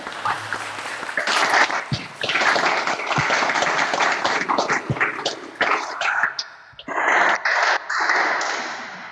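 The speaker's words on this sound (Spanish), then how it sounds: "Aplaudamos vuestro logro" An audience at the Supreme Court swearing-in ceremony for new lawyers applauds, a crowded burst of clapping with scattered louder claps that dips briefly, then swells again before tapering off.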